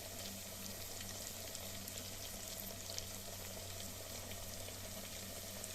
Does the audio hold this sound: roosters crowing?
no